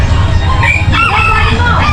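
A flock of chickens with a rooster crowing loudly and repeatedly, the calls overlapping into a dense, continuous din of farmyard fowl around a coop, with no talk.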